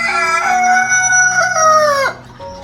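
A rooster crows once, close and loud: one long, drawn-out call lasting about two seconds that cuts off sharply, followed by a brief quieter moment with no voices.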